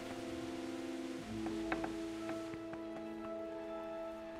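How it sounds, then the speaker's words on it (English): Steady rain patters in the video game Kingdom, a soft continuous hiss with faint droplet ticks and a few sharper taps, over low sustained tones. "Raining again."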